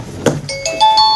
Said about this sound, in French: À la fin de la sonnette, je ne vais entendre plus personne.